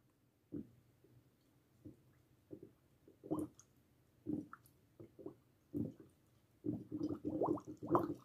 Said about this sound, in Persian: با دهن پف میکنم که ببینی فرض کن بشکه داره تخمیر میکنه این اتفاق میفته